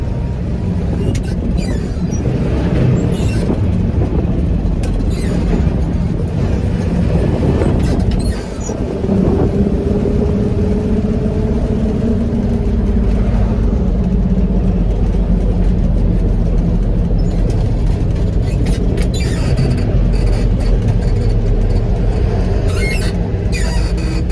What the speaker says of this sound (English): Love the sound of that transmission too.